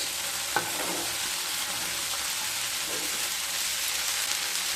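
Cut beans tipped into a frying pan of potato masala fry and stirred: a steady broadband sizzle with a clank near the start and soft scraping stirs, close and alone.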